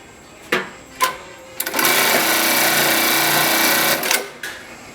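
An automatic X-box bartack sewing machine runs a continuous fast stitching cycle for a few seconds, loud and steady, framed by sharp mechanical clicks of the clamp before and after.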